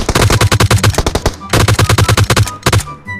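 Rapid machine gun fire from a video game rattles loud and close in two long bursts and a shorter third, with brief pauses between them.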